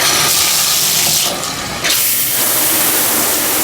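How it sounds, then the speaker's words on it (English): A hotel bathtub shower runs with strong pressure, a loud steady hiss of spraying water that dips briefly then resumes, with no talk. "Shower pressure is absolutely amazing."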